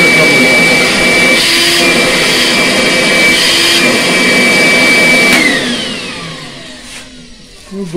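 A DeWALT DCV584L FLEXVOLT vacuum running on battery power whines loudly and steadily up close, then spins down and fades as it is switched off, with a brief clatter at the end.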